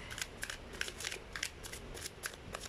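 A sticky tarot card deck is shuffled by hand, giving a run of quick crisp riffling bursts and soft flicks in an uneven rhythm, close and fairly quiet with no talk.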